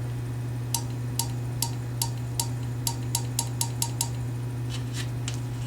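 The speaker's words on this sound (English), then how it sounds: "That noise is actually the valves inside here opening up." Valves opening inside an appliance that is being reset from a four-flash error code, giving a series of sharp, evenly spaced clicks over a steady low hum, fairly close and with no talking.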